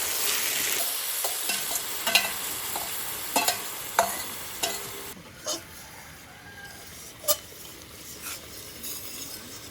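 Meat sautéed in a pan gives a steady sizzle with a few sharp clinks and scrapes from stirring, loudest at first and then quieter with sparse taps, close by and without talk.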